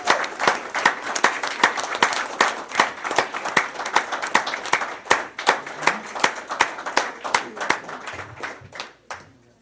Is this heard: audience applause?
yes